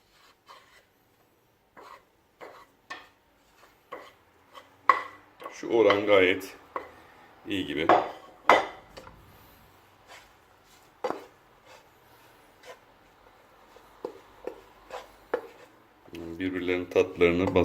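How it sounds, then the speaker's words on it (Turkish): Filling for nettle gözleme is stirred in a bowl, with scraping and tapping of a utensil and a few bursts of louder mixing among sparse clicks, close by and mostly without talk. "Malzemeleri karıştırabiliriz."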